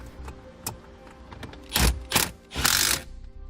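A ratchet tightens a 10mm bolt holding a ground ring terminal under plastic on a towed vehicle, heard as a few close mechanical clicks and then three louder bursts of rapid ratcheting with no talk.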